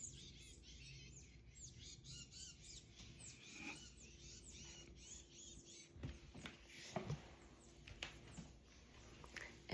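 Birds chirp and tweet at sunrise in a quiet outdoor morning setting, several small calls overlapping at a faint distance, with brighter bursts of song toward the end.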